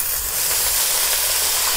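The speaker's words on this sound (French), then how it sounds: "On va déglacer au vin blanc." White wine poured into a hot pan of onions for deglazing, a loud steady sizzling hiss close up.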